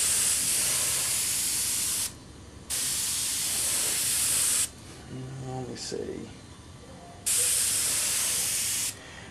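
Three bursts of close, loud airbrush spray hiss against the side of a cabinet while test-spraying for model railroad painting, separated by pauses, with someone briefly speaking in a gap between bursts.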